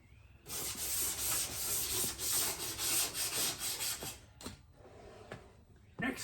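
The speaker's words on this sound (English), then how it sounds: "So I'm roughing them up with some maroon Scotch-Brite." A maroon Scotch-Brite pad scuffs the metal heater channels of a VW Beetle, a close, rhythmic back-and-forth rasping scrub in quick strokes that pauses briefly near the end before a final stroke.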